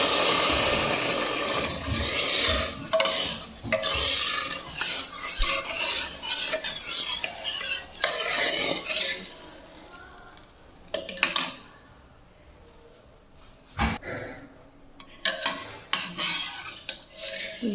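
Cumin and asafoetida tempering in a little ghee for khichdi, with clinks and stirring of a spoon against a pan, busy at first and then sparser with a few sharp knocks near the end.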